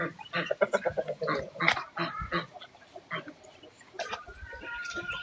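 Ducks among geese and chickens in a rural farmyard give a busy run of quacks and honking calls, near and fairly loud, overlapping one another, with brief human voices mixed in.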